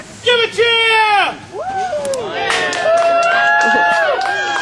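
A crowd at a live event cheers and whoops for Sir Paul, a loud burst of overlapping voices and shouts swelling and holding steady for several seconds.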